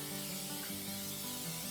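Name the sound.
tire shine spray being sprayed onto a tire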